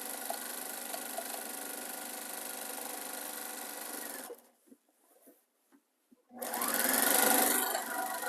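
A sewing machine quilting fabric runs loud and steady, stops for about two seconds of near silence with faint handling noises, then starts up again at full speed.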